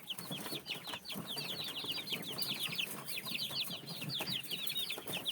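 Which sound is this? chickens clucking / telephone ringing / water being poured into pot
chickens clucking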